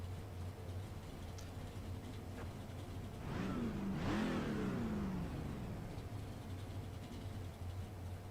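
A race car engine in the iRacing simulator game revs up and then falls away around the middle, the pitch sweeping up and down over a low steady hum.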